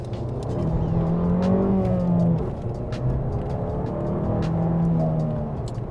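An Abarth 695 70th Anniversary small car drives steadily in normal mode, its engine humming and rising slightly in pitch as it accelerates, heard from inside at moderate volume.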